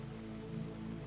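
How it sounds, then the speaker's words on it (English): Rain falling on a thatched roof and against glass panes, a soft steady patter and hiss blending into a continuous low wash, gentle and even with no voices. "The sound of the rain is everywhere now. A liquid percussion on the thatch overhead, a silver whisper against the glass"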